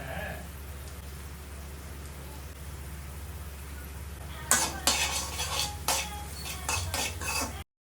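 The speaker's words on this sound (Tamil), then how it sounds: "கொஞ்சமாக சாதம் மிச்சம் இருந்ததுனால அதில் முட்டை சாதம் கலரிட்டேன்." A spoon stirs egg rice in a pan, starting as a faint sizzle and then turning into loud, uneven scraping and clinking strokes against the metal over the last few seconds.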